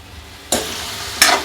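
Flat beans fry in a little oil, a low hiss with two brief bursts of stirring about half a second apart, near and fairly loud.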